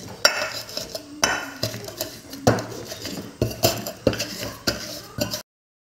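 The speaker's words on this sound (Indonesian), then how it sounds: "Lanjut saya giling raginya," Ragi yeast for cassava tape being ground fine by hand, giving a close series of sharp clinking, scraping strikes in an uneven rhythm, with no talking.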